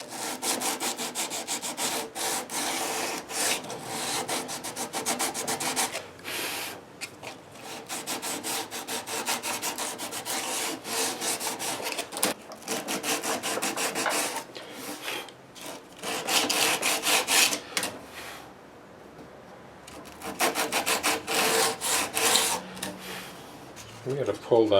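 Sandpaper of 120 grit rasps back and forth over the wood of a 10-string classical guitar, a close, rhythmic scratchy scrubbing in quick strokes with brief pauses between passes.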